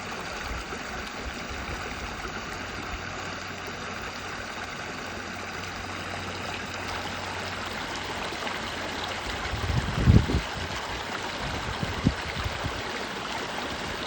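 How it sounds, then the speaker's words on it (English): Backyard waterfall recorded close up, a steady rushing splash of falling water throughout, with a few brief louder splashes or knocks near the end. "This is my backyard waterfall."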